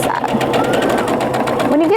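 A sewing machine runs fast and steady stitching a French seam pillowcase, its needle chattering in a rapid rhythm while a person talks over it.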